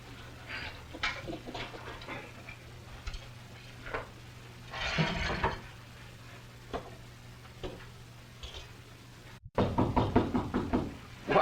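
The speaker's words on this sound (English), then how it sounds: "you don't have to knock to come into your own cabin." Knocking on a wooden cabin door in an old frontier Western drama, scattered raps at first, then a firmer quick burst of knocks near the end, over faint background hum.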